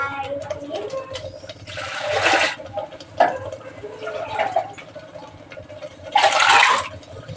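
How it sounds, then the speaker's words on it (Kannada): Water is poured into a pot of avarekalu (field bean) sambar in two short gushing splashes a few seconds apart, set against a steady low background hum. "ಈಗ ವಾಟ್ರ್ ಹಾಕೋಣ."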